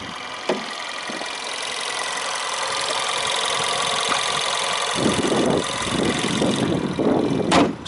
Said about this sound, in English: Very quiet engine.